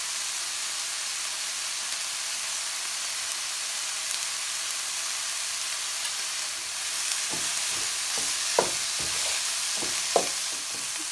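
Ground sausage with diced onion and garlic frying in a pan gives a steady, close hissing sizzle, punctuated near the end by a few short scraping stirs.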